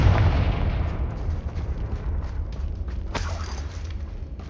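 A Confringo explosion spell in Hogwarts Legacy sets off a heavy booming blast that rumbles on, followed a few seconds later by a second sharp crack and lingering debris noise.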